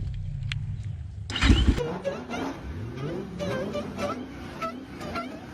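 A KOVI Advance motorcycle engine idles low, then flares up in a sharp rev and settles into a varying, rising and falling run, loud and close throughout.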